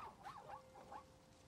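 A creature in the video game God of War Ragnarök gives a short run of three or four faint, whiny dog-like barks and yips, alone and fairly distant.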